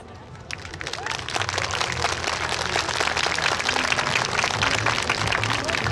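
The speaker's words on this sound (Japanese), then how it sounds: "代わりに手拍子で応援いただけますと嬉しいです" Audience at an outdoor YOSAKOI dance festival waterfront venue clapping along in steady support, a dense continuous wash of applause that swells after the first second and holds loud throughout.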